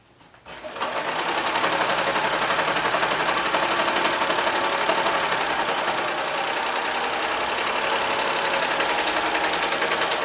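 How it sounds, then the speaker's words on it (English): A serger overlock machine sews a quarter-inch seam on a sweater, starting up and then running in one loud, fast, continuous whir close by for the rest of the stretch. "I'll do that with my serger"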